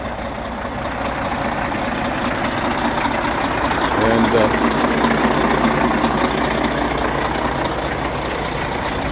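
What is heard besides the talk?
2008 Freightliner semi truck CAT diesel engine idling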